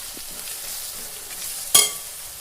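Masala spices frying in a pan for a Kerala chicken curry: a soft, close sizzle, then a sudden sharp burst of crackle near the end that quickly fades.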